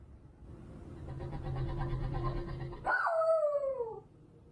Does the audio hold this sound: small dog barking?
yes